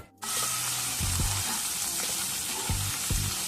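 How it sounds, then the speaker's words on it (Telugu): Hot oil with turmeric bursts into a loud, sudden sizzle as cut okra pieces drop in, then holds a steady close crackle broken by a few scraping stirs. "ఆయిల్ హీట్ ఎక్కిన తర్వాత లైట్గా పసుపు వేసుకొని కొద్దిగా కట్ చేసి పెట్టుకున్న బెండకాయ ముక్కల్ని ఇందులో వేసుకోవాలి"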